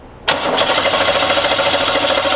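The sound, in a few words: car engine cranking with spark plugs removed for compression test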